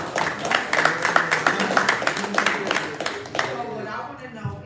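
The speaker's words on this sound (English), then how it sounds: "Let's give a hand of applause for that" Applause from a small group on a podcast set, a run of quick uneven claps over several seconds that thins toward the end, with voices mixed in underneath.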